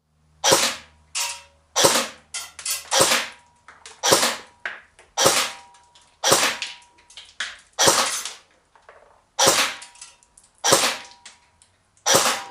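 A Cybergun Kalashnikov AK47 folding-stock AEG airsoft rifle, non-blowback, fires ten separate sharp, snappy shots at a slow, uneven pace, each one a loud, close crack with a short tail and silence between.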